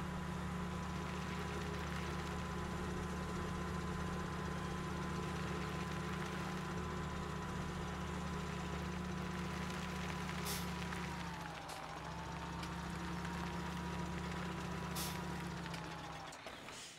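A tractor engine idling steadily in Farming Simulator 17, a low, even drone with a slight dip in pitch partway through and a couple of faint clicks.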